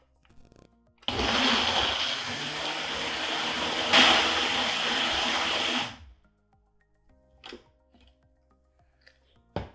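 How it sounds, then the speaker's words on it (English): Ninja Professional 1100W blender whirring loudly for about five seconds while blending a fruit smoothie, starting and stopping abruptly, with a brief murmur of speech before it and faint clatter afterward. "this blender with these attachments is like a smoothie machine"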